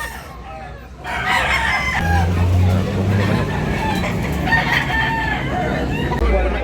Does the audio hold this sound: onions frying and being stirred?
no